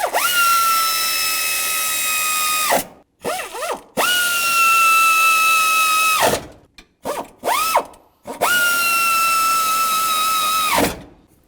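A power tool snugs the transmission mount bolts on a 2000-2005 Buick LeSabre. It makes three loud, sustained whirring runs of two to three seconds each, with short stuttering bursts of the motor between them. Close up, with no voices.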